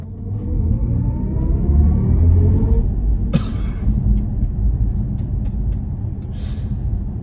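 BMW i4 electric car accelerating in sport mode, heard from inside the cabin as a steady low rumble with a rising synthetic drive tone, plus a brief sharp click partway through.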